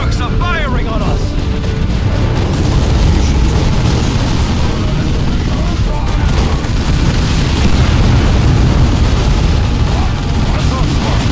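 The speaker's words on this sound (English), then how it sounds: "Orcs are firing on us." Orc gunfire and explosions in the Dawn of War II: Chaos Rising strategy game, a dense, loud, continuous barrage of booms and shots with no pause throughout.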